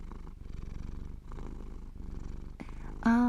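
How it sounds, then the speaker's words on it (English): A cat purrs in a steady low rumble with even rhythmic pulses and brief pauses between breaths, close and alone, with a short brighter sound at the very end. "We have a purring sound effect going"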